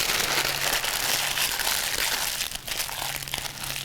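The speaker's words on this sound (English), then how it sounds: "and then just crumple it up" A full sheet of parchment paper being crumpled in the hands, a dense, continuous crackling and crinkling close by that eases slightly toward the end.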